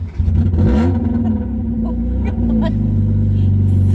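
A Mazda Miata's engine revs hard during donuts, a loud, sustained, close roar that rises and wavers in pitch, with a brief shout over it.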